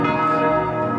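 Church bells in Salzburg ring together, their loud, overlapping metallic tones sustaining and blending into one continuous ringing chord.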